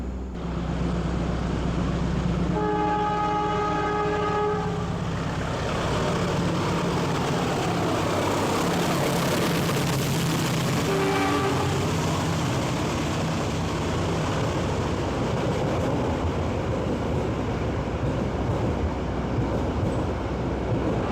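The Manahan passenger train rumbles steadily as it departs track 1 at Cirebon station, with a short horn blast early on and brief squealing tones, heavy continuous rolling noise throughout.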